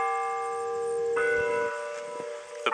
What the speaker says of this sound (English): The bell tower ringing up here.